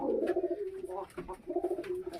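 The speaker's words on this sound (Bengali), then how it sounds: "এটা ডেনিশ কবুতর" A Danish pigeon coos nearby in a continuous run of soft, low, throaty rolls with brief breaks, heard on its own.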